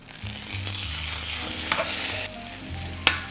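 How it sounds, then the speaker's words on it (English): A steak, likely ribeye, sears in a hot pan, giving a steady close sizzle with a few sharp pops and clinks of the pan and utensil. "The last thing I'm gonna do is sear off my steak one more time"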